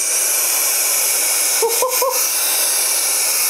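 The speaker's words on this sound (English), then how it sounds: "Let's just give it a vacuum and see how we go." An Ulanzi electric air blower runs in vacuum mode on sand, giving a loud, steady high-pitched whirring hiss with a few brief pitch dips partway through.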